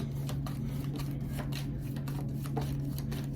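Tarot cards are shuffled by hand in a series of soft, quick riffling bursts over a steady low electrical hum, close and quiet with no talking.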